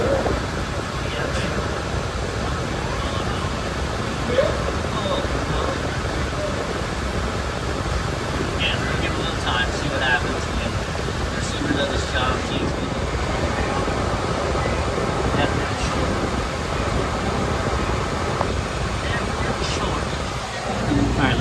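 A commercial cook's line refrigeration unit on R-404 refrigerant, running short of charge, hums as a constant mechanical drone with fan noise, steady and fairly loud throughout, with voices faintly in the background.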